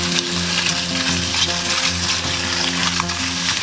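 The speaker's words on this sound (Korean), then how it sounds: "바지락을 넣고 1분간 더 볶도록 하겠습니다." Clams stir-frying in a pot for Korean soft tofu stew, a loud continuous sizzle with scraping stirring sounds close up, a low hum underneath, no talking.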